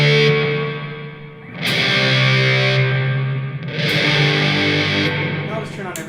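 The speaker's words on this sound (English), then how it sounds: "you hear the distorted signal and then it gets reverberated" Heavily distorted guitar chords run through a lo-fi reverb pedal on a pedalboard, washed in grainy reverb, two swelling strums each ringing out into a long smeared tail.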